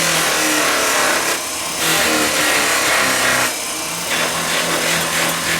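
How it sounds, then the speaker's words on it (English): A motor-driven buffing wheel spins steadily while a pen blank is pressed against it for polishing, its whirring hum dipping briefly twice as pressure changes, close and loud with no talking. "the blank is spinning along with the wheel, but it's still buffing it"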